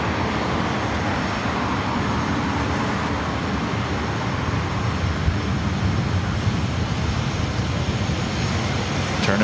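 A jet airliner taking off at LAX produces a loud, continuous engine roar with heavy low rumble, sustained and close, filling the whole stretch without a break.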